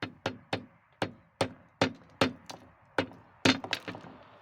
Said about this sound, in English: need a little bit of hammer action